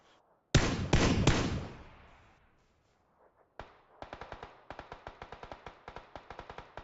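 Gunfire in PUBG: a loud close burst of shots with a decaying echo, then a pause, then a rapid string of sharp automatic shots.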